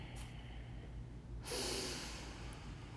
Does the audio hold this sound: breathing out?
yes